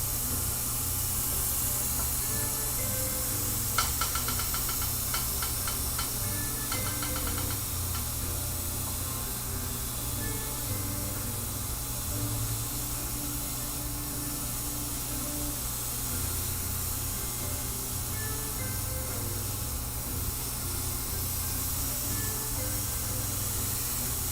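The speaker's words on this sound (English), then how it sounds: "I'm kind of just spraying halfway on the paper" An airbrush spraying paint onto paper gives a steady, even hiss that runs unbroken throughout, with a faint low hum and a few light ticks near the start.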